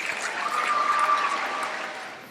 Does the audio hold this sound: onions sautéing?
no